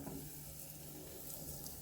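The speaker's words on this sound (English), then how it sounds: "You do want this to sizzle" Steady, continuous sizzling of chicken frying in hot olive oil in a pan, close and even throughout with no talking.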